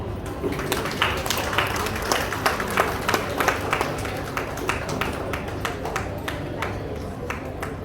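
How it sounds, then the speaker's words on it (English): Audience clapping at an award ceremony and Labor Day celebration, a steady stream of distinct, crisp claps from a moderate crowd, continuing evenly for several seconds with a murmur of voices beneath. "Please clap"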